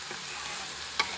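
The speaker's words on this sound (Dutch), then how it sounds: "Bij de kastanje champignons voeg ik 1 gesnipperde rode ui toe." Chopped red onion goes into a pan of frying chestnut mushrooms, giving a steady hiss of sizzling with a brief sharp clatter of stirring near the end, close and moderately loud.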